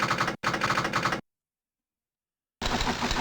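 Typing a name on a keyboard in the video game Where in the World is Carmen Sandiego gives a dense clatter of keystrokes in two quick bursts, then a silent gap, then more rapid typing.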